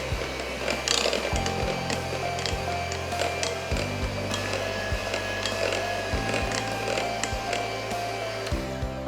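A mixer beats eggs into carrot cake batter, making a continuous close whirring hum. The pitch steps up and down as the speed changes, and a few clicks and knocks come through. No one speaks over it.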